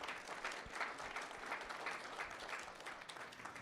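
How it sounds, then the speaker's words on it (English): A round of audience applause at a Smart Cities Challenge event in Canada, steady clapping from a large crowd heard at a moderate distance, even and unbroken for the whole stretch. "Please give her a round of applause."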